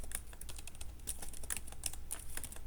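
Quiet, steady typing on a computer keyboard during Java coding in IntelliJ, with rapid, irregular key clicks throughout and no voices.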